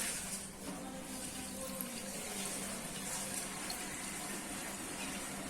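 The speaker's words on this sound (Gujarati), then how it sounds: "આપણે આ રીતના બધું આટી ચડાવીને બધું પાણી નીતારી લેશું" A soft, steady trickle of water drips and drains from mango, ginger and garlic pickle ingredients, faint and continuous with no voices, a quiet liquid patter throughout.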